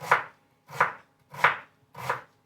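Knife chopping through an onion on a cutting board, four evenly spaced crisp strokes about two-thirds of a second apart, close and clear with no talk.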